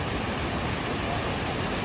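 A waterfall near Munnar, running full after heavy monsoon rain, gives off a constant dense roar of rushing water, loud and unbroken, with no voices.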